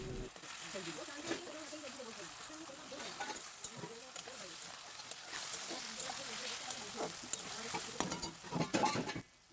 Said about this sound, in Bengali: টমেটোটা ভালো করে তেলের মধ্যে নেড়ে ছেড়ে ঘেঁটে নেবো